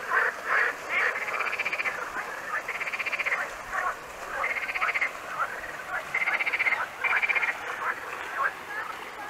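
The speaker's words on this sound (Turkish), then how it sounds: "Kurbağaların sesleri." Frogs at Duruçay pond near Vezirköprü, Samsun, croak in a dense outdoor chorus of repeated rattling pulses that rise and fall in waves, steady and moderately loud, with no talk over them.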